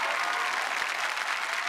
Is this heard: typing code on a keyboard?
no